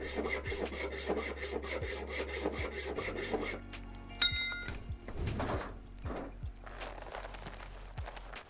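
A hacksaw rasps in a video game with repeated back-and-forth strokes, fairly quiet, followed by scattered clinks and scraping, with no speech.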